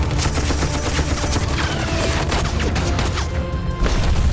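Sustained volleys of gunfire crackle without pause in a 1965 India–Pakistan war scene, dense overlapping shots and crashes held loud and close throughout, no talking heard.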